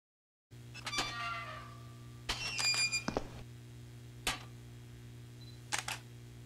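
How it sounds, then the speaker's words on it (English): Camera shutter clicks in the horror video game Dark Fracture: sharp, distinct snaps, some in quick clusters and others spaced apart, over a low steady hum, close and clear without speech. "keep hearing a camera shutter clicking away"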